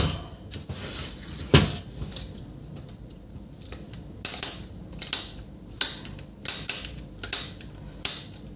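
Plastic panels and rollers of an HP LaserJet 1102w printer being opened and turned to clear a paper jam, heard as a series of sharp, close mechanical clicks and snaps at irregular intervals, with quiet handling in between.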